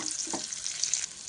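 Chopped onion and green chili sautéing in oil for shevai Maggi, a steady close sizzle with a brief stir-scrape near the start and no talking.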